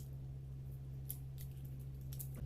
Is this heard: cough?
no